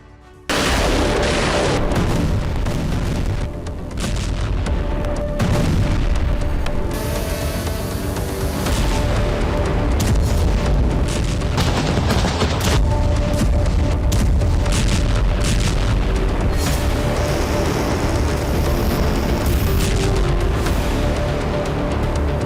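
Heavy explosions from drones and Iskander missiles in wartime Ukraine roar continuously, loud booming blasts and rumbling with crackling bursts layered throughout, no voices heard.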